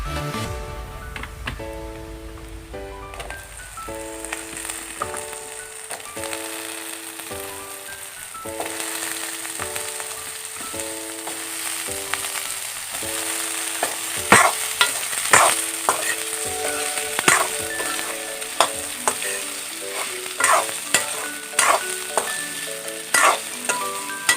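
Chopped potatoes and banana stem fry and hiss steadily in a pan for an Assamese banana stem fry, with repeated stirring scrapes and clacks over a continuous sizzle and background music.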